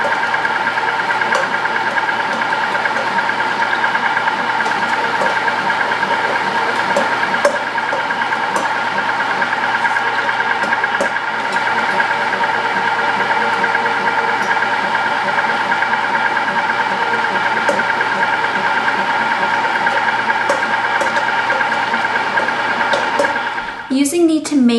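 A food milling machine fitted with a tomato attachment runs steadily while processing red peppers for Portuguese pepper sauce, giving a loud, continuous motor drone and hum that holds throughout before cutting off abruptly at the end.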